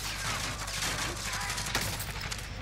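Scattered gunfire from an online shooter match, with a sniper round cracking among faint dense shots in a steady noisy battlefield bed, the loudest snap arriving about two-thirds through.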